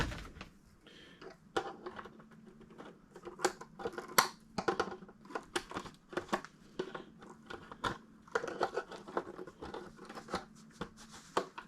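A knife trims plastic tabs off a Traxxas TRX4M RC truck body, producing a string of sharp, close snips and clicks at an irregular pace over quiet background.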